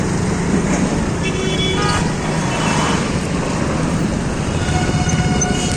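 A congested city road on a foggy, cold day, with a dense, steady rumble of idling and crawling vehicles, engine drone and occasional horn-like tones all around.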